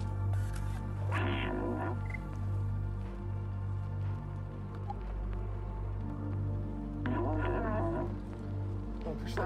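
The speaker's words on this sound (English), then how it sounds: "Some cat sounds." Cat sounds from the video game Stray, two short meows several seconds apart over steady game music and ambient hum, with no talking.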